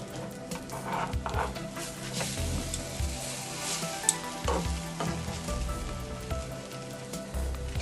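French toast frying in butter in a pan over a low flame, a steady close sizzle and crackle with occasional soft pops, and no talking.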